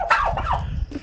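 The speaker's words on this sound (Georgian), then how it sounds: "მართლა ინდაურია" A turkey in a farmyard lets out a single loud, close gobble, a quick rattling burst that lasts about a second.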